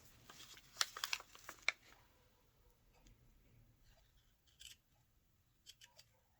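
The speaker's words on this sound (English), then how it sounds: "I think I can trim that now while I'm thinking about it" Scissors snip through wide lace being trimmed into thinner strips for folios, a quick cluster of crisp close cuts followed by a few fainter snips and paper rustles in a quiet room, no talking.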